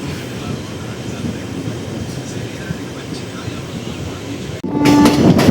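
A train on the Tiruvannamalai to Tirupati line rolls on with a steady close rumble and faint clatter, then the noise jumps louder near the end as a sharper tone and rattling take over.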